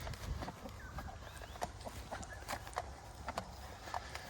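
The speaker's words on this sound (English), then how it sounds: "There's the chickens." Chickens in a backyard garden near a mulch pile, soft intermittent clucks and scratchy pecking noises at moderate distance over quiet outdoor background.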